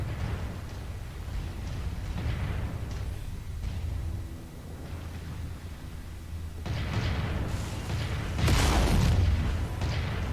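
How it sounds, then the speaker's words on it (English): Long-range missiles launched from a Javelin support mech in MechWarrior 5: Mercenaries, booming and rumbling in overlapping waves, with a louder burst of launches and impacts near the end. "There goes the long-range missiles"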